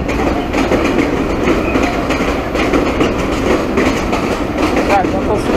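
A train rolls past close by near a forest bridge built in 1925, a loud continuous rumble with rhythmic clickety-clack of wheels over rail joints throughout, with people talking over it.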